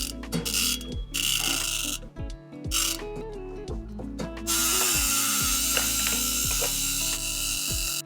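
Torque wrench ratcheting in repeated bursts while tightening bolts on an Amflow PL Carbon Pro carbon bike, close and loud clicking pawl, pausing between strokes with a steadier mechanical whir toward the end.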